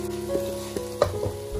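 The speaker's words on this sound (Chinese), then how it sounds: "鱼块煎成金黄色，再把姜丝也加进来" Sea bass pieces with shredded ginger frying in a pan, a close steady sizzle with a few soft knocks as the pan is moved.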